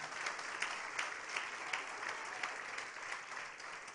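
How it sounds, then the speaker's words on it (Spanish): A church congregation applauds during a sermon, a continuous spread of many hands clapping with a few sharper claps standing out, moderately distant and even in level. "Alguien le da un aplauso al Señor."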